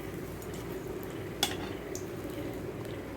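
Bajji fritters frying in hot oil, a steady soft sizzle and bubble close by, with one brief clink of a utensil partway through.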